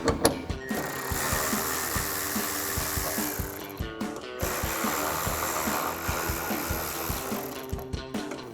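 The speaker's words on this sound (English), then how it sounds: "we're gonna take a 7mm socket to remove those" A 7mm socket wrench works bolts loose on the rear spoiler of a 2024-2025 Mustang, giving a steady run of quick mechanical ratcheting clicks close by, with brief pauses between bursts and no talking.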